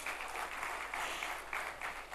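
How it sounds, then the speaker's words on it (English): Audience applause at a launch event in the fitness industry, a brief steady burst of many hands clapping in a hall, fairly close and even for about two seconds with no speech. "Can we have a round of applause for Doctor?"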